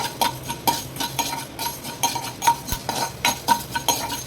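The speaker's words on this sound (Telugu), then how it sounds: "ఇప్పుడు ధనియాలు వేయించుకుంటున్నాను." Coriander seeds being dry-roasted in a pan for masala vankaya (a spiced eggplant dish), stirred with a metal spoon. The spoon gives repeated close clinks and scrapes in a fairly even rhythm, with no talk.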